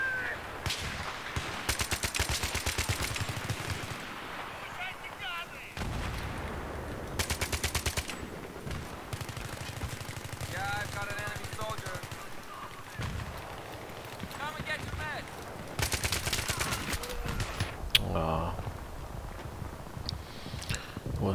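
In Battlefield 3 team deathmatch on Canals with a G3A3 rifle, rapid bursts of automatic gunfire repeat in clusters throughout. Several long strings and scattered shots play over steady game noise, and a voice talks between the bursts.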